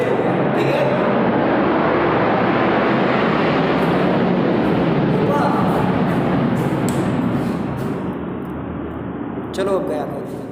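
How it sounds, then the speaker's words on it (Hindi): A fighter jet passes overhead as a loud, broad roar that fills the scene and slowly eases off toward the end, with a voice talking faintly underneath. "लड़ाकू विमान जा रहा था, इसलिए मतलब आवाज में दिक्कत आई होगी"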